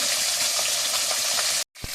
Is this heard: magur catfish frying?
yes